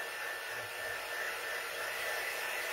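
A hair dryer blowing on a large painted gourd, a steady, even whoosh of air with a motor whine, continuous and close, with no talking.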